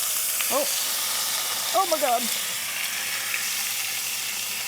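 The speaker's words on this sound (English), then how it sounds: "this is sizzling, so now I'm gonna add some ginger paste" Cardamom and ginger paste sizzle in butter in a home kitchen pan, a steady frying hiss under a short exclamation and some brief vocal sounds.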